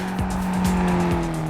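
Sports car tires squealing in a BeamNG driving game as the rear steps out and spins through a corner: a steady high engine drone with repeated sliding tire screeches, close and loud, no talk.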